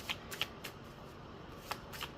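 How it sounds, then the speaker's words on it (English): Tarot cards shuffled by hand in a quiet room, giving soft papery riffles and a few sharper flicks spread across a couple of seconds, close and fairly faint, with no talking. "Just shuffle and shuffle until I feel like we've got a message that we should be hearing."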